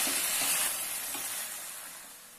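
Chicken frying in a pan over low heat while cooking a gobi chicken korma, giving a steady, close sizzle of hissing and crackle that fades slightly over its short length, with no talking.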